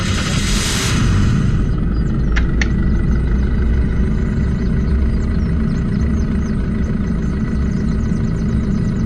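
A tractor engine in the video game Unturned runs continuously at close range, a steady rumble, with a brief hiss near the start and a couple of faint clicks.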